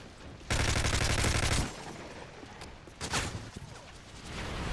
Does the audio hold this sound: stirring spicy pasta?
no